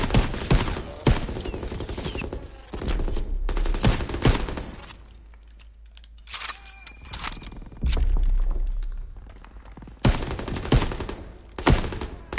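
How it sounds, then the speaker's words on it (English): Bursts of rifle and machine-gun fire in Call of Duty: WWII crack out in uneven clusters, some loud and close and others thinner, with quieter gaps between volleys. "Firing right at that dude."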